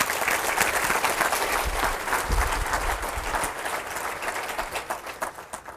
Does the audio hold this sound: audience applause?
yes